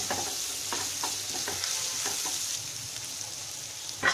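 A spoon stirs potato kachori filling with oil, green chili, ginger and turmeric in a hot pan, giving steady soft scraping strokes over a continuous gentle sizzle, close up with no talking.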